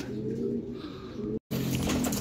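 Racing pigeons coo in a loft during a race day, a soft, steady stream of low cooing throughout, broken by a very brief gap near the middle.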